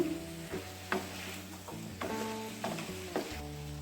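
Cashews fry in hot oil for a chana masala while a spoon stirs and scrapes the pan, with steady sizzling and regular scraping strokes, close and clear, alongside a soft melodic tone in the background.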